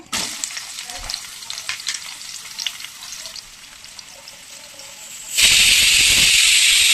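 Curry leaves and chopped onions frying in about five spoons of oil, a steady close sizzle that grows sharply louder and brighter near the end as the ingredients hit the hot pan, with no talk.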